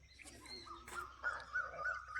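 Birds call at a distance in Hingolgadh wildlife sanctuary, with crow-like caws and a few short chirps over faint outdoor background noise.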